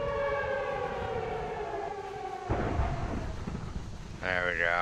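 Tornado warning sirens wail in modded Minecraft: a loud, steady multi-tone howl over a low storm-like rumble, joined near the end by a second siren sweeping through a rising and falling cycle.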